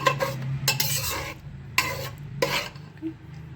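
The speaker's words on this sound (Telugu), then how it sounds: "బాగా మిక్స్ చేసుకోవాలి." Brinjal dal with tamarind juice and tempered onions is stirred in a pot, producing close, repeated scraping and rubbing strokes of a spoon against metal over a faint low simmer.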